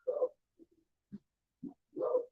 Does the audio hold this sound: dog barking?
yes